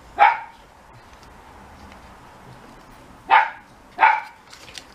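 Three sharp, loud dog barks close by in a room: one single bark, a long pause, then two more in quick succession, with quiet between.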